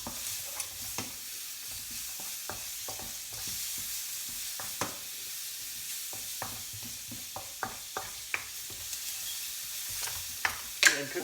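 Prawns stir-frying over high heat give a steady sizzle broken by frequent scraping and tossing clicks of a utensil in the pan, close and fairly quiet, with no talking.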